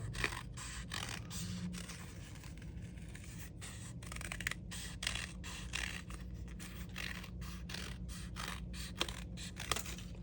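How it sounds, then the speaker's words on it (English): Scissors snipping through paper to cut out large sunflower petals, a steady run of short, quiet crisp cuts and scrapes over a low background hum, no voices. "I'm gonna go ahead and cut all my petals"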